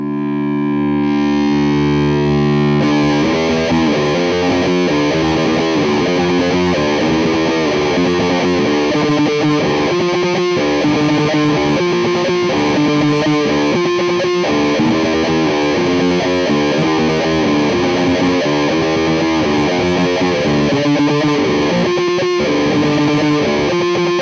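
A Squier Sonic Esquire electric guitar played through a distorted amp tone, a loud continuous run of driven chords and riffs with sustained ringing notes and no talking.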